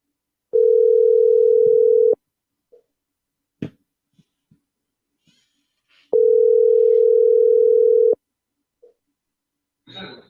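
A steady telephone dial tone plays in two loud bursts of about two seconds each during a call placed on a live FM radio show, with short clicks and faint noises in between and a brief crackle at the end.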